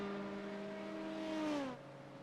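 A Ferrari race car engine in the iRacing sim game at Daytona holds a high steady whine, then its pitch drops sharply as it shifts or lifts off, one clear engine note alone.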